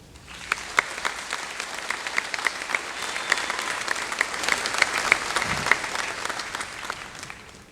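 A commencement audience applauds steadily to welcome the speaker, a dense sustained clapping from a large crowd that carries on for several seconds with scattered louder individual claps.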